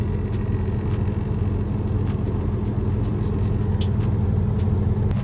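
A semi truck engine is held at raised revs to build air pressure, giving a loud, steady low rumble with a rapid, regular ticking on top, and no talking.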